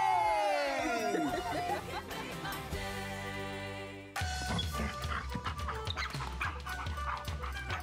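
Dog barks and whimpers in a radio advert for Hills Canine dog food, set in a busy produced mix with music and effects, loud and close throughout.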